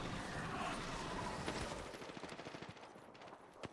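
Apex Legends gunfire in a distant firefight, rapid bursts of automatic shots in dense volleys that thin into scattered cracks, fairly faint under game ambience.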